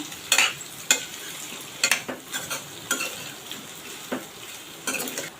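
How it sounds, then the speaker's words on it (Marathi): Diced potatoes are stirred into a pan with chilies sauteed in oil for a potato fast-day dish, giving repeated close scraping and clinking strokes of a spoon against the pan over a soft sizzle. "त्याच्यामध्ये जे बटाटे आपण फोडी करून आहेत त्या घालणार आहोत मिक्स करून घ्यायच्या"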